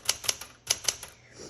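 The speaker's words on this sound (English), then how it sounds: "So this is a 1973, so this is an all manual typewriter." Crisp, close keystrokes on a 1973 Smith Corona Galaxie Twelve manual typewriter, about six sharp clacks in two quick bursts, followed by a softer mechanical whir.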